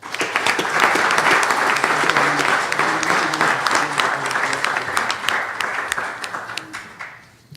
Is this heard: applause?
yes